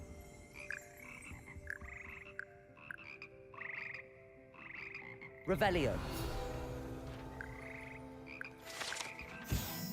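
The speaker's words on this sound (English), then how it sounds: "Here perch the slimy yet sympathetic frogs that comprise the Hogwarts Frog Choir." Frogs of the Frog Choir in the Hogwarts Legacy video game croak in repeated short bursts, then a loud magical spell effect cuts in and more croaks follow faintly, with a single spoken word.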